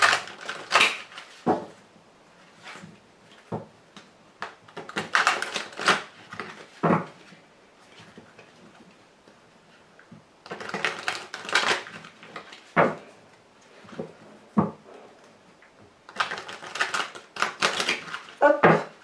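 Someone shuffles and cuts a Wicca tarot deck in bursts of brisk papery riffling and clacking, several clusters separated by near-silent pauses.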